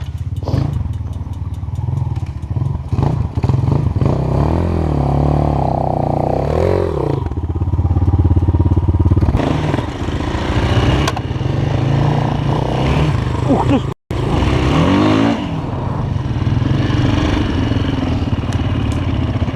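A Honda Hornet motorcycle ridden on a forest trail, its engine loud and close throughout, rising and falling with throttle changes amid clattering and scraping over rough ground.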